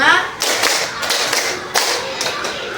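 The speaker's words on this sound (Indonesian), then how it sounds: "Sekarang tepuknya dengan gerakan ya." Children clapping hands in rhythm during a classroom clapping game, a run of sharp close group claps in a quick uneven pattern, with faint voices in the background.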